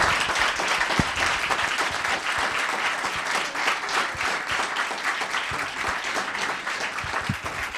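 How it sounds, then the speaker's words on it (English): A sustained round of applause at a town council meeting honoring local businesses, many hands clapping loudly and evenly throughout with a few sharper individual claps. "Let's have a big round of applause for Robertson Publishing and"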